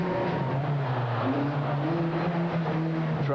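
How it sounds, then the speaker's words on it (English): A monster truck engine roars steadily at a Kansas City monster truck event in 1997, a loud sustained drone with its pitch rising and falling, and no voices over it. "The truck really sounds strong."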